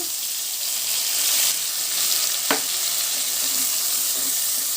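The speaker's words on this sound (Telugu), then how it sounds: "ఇప్పుడు ఇందులో సన్న ముక్కలుగా కట్ చేసి పెట్టుకున్న టమాటా ముక్కలు వేసేసుకుందాము" Finely chopped tomato pieces go into frying onion and garlic masala for vegetable biryani, raising a steady close sizzle with a short sharp clatter midway as they are stirred.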